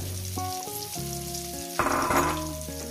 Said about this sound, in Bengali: দেখছেন আমি কীভাবে লাল লাল করে ভেজে নিচ্ছি